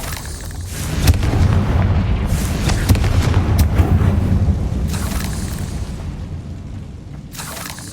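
A Confringo blasting curse explodes in the Hogwarts Legacy video game, a loud, heavy booming roar that rumbles on for several seconds with crackling bursts before easing off.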